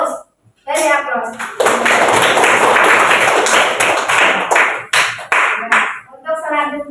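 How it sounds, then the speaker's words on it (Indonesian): A class of children claps together to applaud their group presentations during a maths lesson, a dense burst of hand claps lasting several seconds, with a teacher's voice speaking just before and after. "Beri aplaus."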